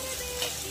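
Food frying in a little oil in a raw, unseasoned pan (kadai), a steady close sizzle with light stirring throughout the brief moment.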